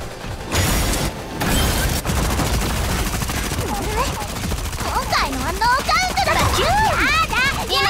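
Rapid bursts of gunfire and mechanical clanking from the mecha game Super Mecha Champions fill the clip, loud and dense, with a voice speaking over the barrage.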